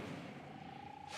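The Incendio fire spell from the Hogwarts Legacy video game goes off in a brief, dense burst of whooshing roar, loud and close, lasting about a second.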